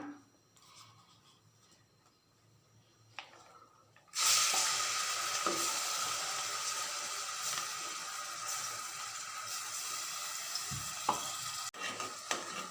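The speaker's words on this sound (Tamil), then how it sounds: "எண்ணெய் சூடாயிடுச்சு அடுத்ததாக இஞ்சி பூண்டு பேஸ்ட் பண்ணி வச்சுருக்கத இதோட சேர்த்துக்கலாம்" Ginger garlic paste hits hot oil for a mutton curry and bursts into a loud, steady sizzle that holds for several seconds, after a quieter stretch of faint kitchen sounds and stirring.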